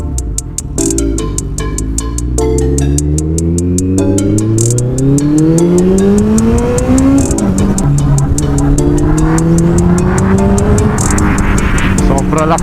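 A Kawasaki ZX14R motorcycle engine revs hard and accelerates on a highway speed run, pitch climbing through gears with loud, close, steady engine roar and shifts, wind noise throughout.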